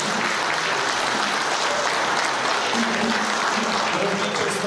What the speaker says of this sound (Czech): Tak ještě jednou bych vás poprosil potlesk pro drobotinu z Vesovic.